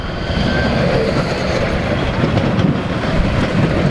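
A Nottingham tram rolls past close by, a loud, steady rumble of wheels on rail with faint squeals and clicks running throughout.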